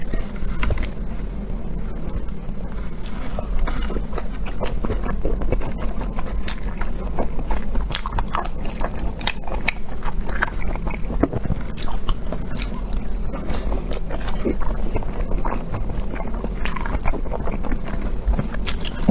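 Cold abalone straight from the pack is eaten close up, with steady, loud, moist chewing and repeated sticky bites running without a break through the whole stretch.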